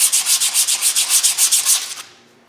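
A wheel bearing surface on a rusty Subaru rear hub is sanded by hand with 120-grit paper in a fast, even rhythm of about a dozen loud rasping strokes that stop abruptly.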